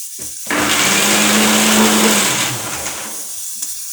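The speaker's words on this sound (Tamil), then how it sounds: "இப்படி நல்லா மசி போல் அரைச்செடுக்கணும்" Mixer grinder whirring at high speed as it grinds roasted whole spices with turmeric powder and garam masala into a smooth paste, a loud steady motor drone for about two seconds before winding down.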